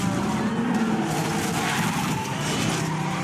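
A car skids and crashes into a giant bull, a loud, continuous roar of engine and tire noise with harsh scraping across the whole stretch, and faint voices underneath.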